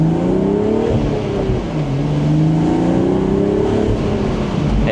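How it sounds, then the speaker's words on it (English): A BMW Z4 M40i engine revs up and climbs in pitch as it accelerates, dips briefly, then rises again with a throaty exhaust note. "let's see if we can hear that exhaust"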